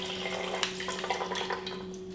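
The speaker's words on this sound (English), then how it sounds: "And we'll add it to our container." Descaling solution poured from a cut pouch into the water container of a Nespresso machine, a short close trickling splash over a steady electrical hum.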